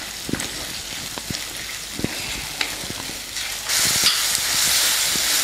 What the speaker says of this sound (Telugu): ఇప్పుడు కరివేపాకు వేసుకొని బాగా తిప్పుకుందాం. ఇది ఒక 5 నిమిషాలు వేగనిద్దాం.